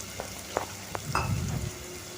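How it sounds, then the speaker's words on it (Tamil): Onions sizzle and sputter in hot oil, with a few sharp crackles and a brief stirring scrape over steady frying hiss. "பாருங்கள் இன்னும் நல்லாவே வதங்குது வெங்காயம்"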